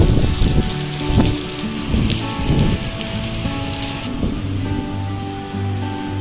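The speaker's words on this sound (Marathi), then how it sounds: "जोरदार पाऊस चालू झाला आहे" Heavy stormy rain pours down steadily in Pashan village, a dense continuous hiss of drops drumming on surfaces, loud and close, with a low rumble underneath.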